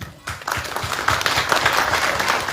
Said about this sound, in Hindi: अगर पंकज कुमार के बहुत जोर से तालियां